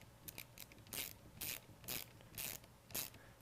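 Ratchet tightening on a 2026 VRS Swerve 10 build, a close, dry clicking ratchet worked in five or six steady strokes, each a short burst of pawl clicks with brief pauses between.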